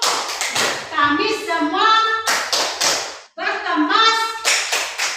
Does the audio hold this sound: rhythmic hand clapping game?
yes